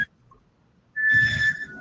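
A single high, steady whistle tone starts after a near-silent stretch and holds for under a second, fairly loud and close.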